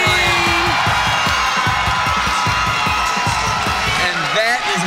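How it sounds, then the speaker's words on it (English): A basketball crowd roars and cheers after a two-handed dunk, a loud, dense wall of whoops and yells that holds steady throughout, with an announcer talking excitedly over it. "This crowd going absolutely bonkers out there after a two-handed dunk from Justin Latham"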